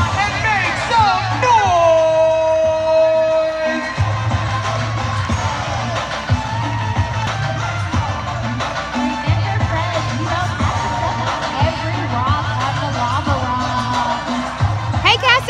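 A stadium crowd at a track race cheers and makes noise, a loud, continuous roar of yelling and whooping, with a voice on a public address system speaking over it.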